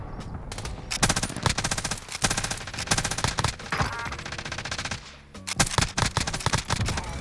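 Rapid automatic gunfire in an online battle-royale heist shooter, loud close bursts of machine-gun fire with a brief lull before another volley resumes.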